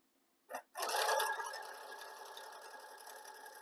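Sewing machine stitching apron fabric, starting with a short burst, a brief pause, then a steady continuous whir that runs alone and gradually eases in level.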